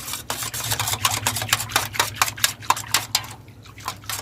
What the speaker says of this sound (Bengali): দিয়ে আবারও ভালো করে মিশিয়ে নিচ্ছি